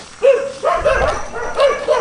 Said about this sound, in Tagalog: Aso, hinabol.